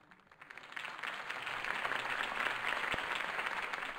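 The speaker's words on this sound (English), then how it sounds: "If only Mr. Wayne, my campaign's largest backer, could have heard that applause" Video game crowd applause swells quickly and holds as a dense, steady wash of clapping at moderate, somewhat distant volume.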